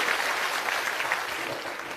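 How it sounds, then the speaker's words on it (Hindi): Crowd clapping at an outdoor village public gathering in Morsanda, Chausa block, steady dense applause held at an even, moderate level throughout without interruption. "एक बार जोरदार ताली बजाइए आदरणीय प्रसाद जी के"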